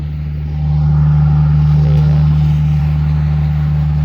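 A combine harvester's engine at a Thai rice-harvesting job starts up and settles into a loud, steady diesel drone with a strong low hum, running close by.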